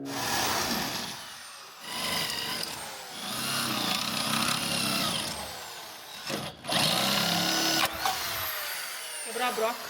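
A power drill bores in bursts while an anti-torsion bar is being fitted: whining spurts that start, stop and restart over about ten seconds, loud and close, with a person talking in between.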